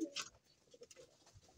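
Racing pigeons cooing softly, with a few low coos and faint rustling in a quiet loft, close by but gentle and brief.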